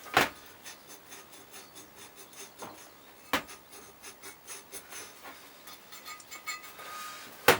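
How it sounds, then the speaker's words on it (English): Coarse sandpaper roughening a copper inlet manifold pipe on a classic SPi Mini, rhythmic quiet rasping rubs in short repeated strokes, with a few sharper knocks. "I've just cut out a little bit of coarse sandpaper here to do that."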